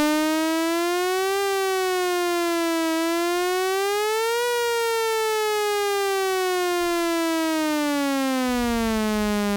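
Arturia MiniFreak synthesizer playing its wobbly LFO wave, a steady tone whose pitch slowly rises and falls like a siren, sounding loud and alone throughout.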